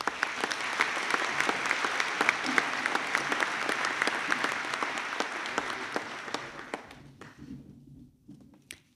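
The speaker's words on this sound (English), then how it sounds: "If we could give a round of applause." An audience at a graduation ceremony applauds in a dense, steady patter of clapping that gradually thins and fades out near the end.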